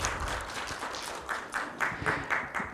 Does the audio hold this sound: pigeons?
no